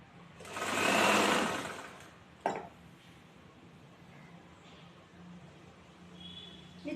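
Sewing machine stitching a chudithar neck fabric seam at a quarter inch: one soft, brief whirring run of stitches, followed by a faint click and quiet near-silence.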